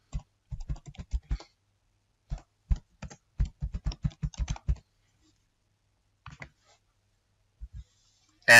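Someone types an email address on a computer keyboard, producing bursts of crisp key clicks in quick runs separated by short pauses, with a louder clatter at the very end.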